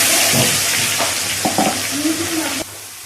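Cumin seeds and garlic dropped into hot oil for a ridge gourd stir-fry, a loud close sizzle with sharp crackles and clinks before it cuts off abruptly near the end.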